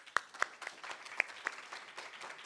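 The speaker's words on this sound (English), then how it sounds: "I think she needs a clap" Scattered, sparse handclaps from a small audience at a faculty presentation, a handful of distinct claps spread over a couple of seconds with faint room noise between, no voices.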